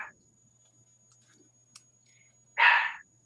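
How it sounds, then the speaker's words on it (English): A pet dog named Vinny lets out a single loud bark indoors near the end, after a mostly quiet stretch with a few faint clicks. "What is he barking at?"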